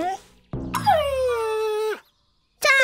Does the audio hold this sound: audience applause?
no